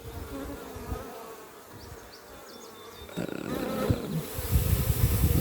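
Honey bees swarm and buzz around an open bee nuc during installation, a dense continuous drone that swells louder toward the end, with no talking over it.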